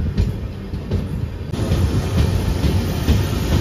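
A moving Vasco-bound express train on the Goa line gives a loud, steady rumble with rhythmic clatter of wheels on rail joints, heard close from aboard the train.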